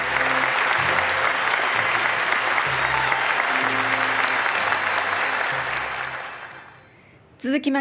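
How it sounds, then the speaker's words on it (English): Dense, sustained audience applause at the Japan Prize award ceremony, loud and even for about six seconds before it fades away, followed by a brief burst of sound at the end. "Everyone, please join me in a round of applause."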